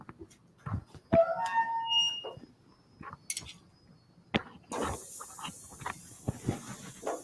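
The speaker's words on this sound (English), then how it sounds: "Nice sizzle there, Tony." A broad, steady sizzle of pork chops on a grill starts partway through, mixed with scattered clicks and clatter from handling nearby.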